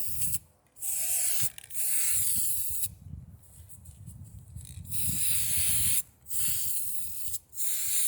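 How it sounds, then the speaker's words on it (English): Repeated hissing bursts of an aerosol spray paint can coating a vase, several long sprays separated by brief pauses, close and fairly loud. "I'll come back and I'll spray another coat on it."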